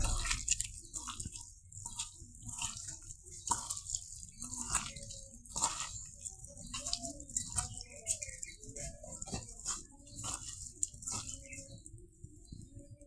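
Wet squishing and soft slapping as sea fish pieces are hand-mixed into spice paste for paturi, an irregular stream of close, moist squelches and small clicks with no talking.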